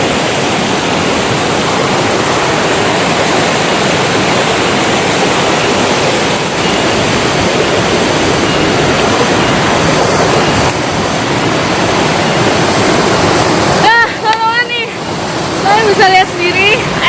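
Curug Benowo waterfall at Kalisidi, Ungaran, Central Java, pouring abundant water, a loud continuous broadband roar filling the whole clip, with brief chirps near the end.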